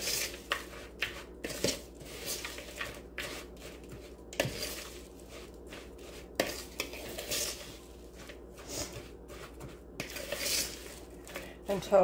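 Oatmeal cookie dough is mixed in a bowl with repeated sticky thumps and scrapes at an uneven rhythm, close and moderately loud, over a low steady hum.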